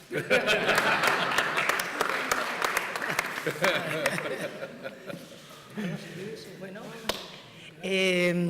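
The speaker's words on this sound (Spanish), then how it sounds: "Gracias, aplausos." Audience at an official event presided over by the president of the Junta de Extremadura, clapping after a speech; scattered claps and laughter fade out, then a voice speaks briefly at the end.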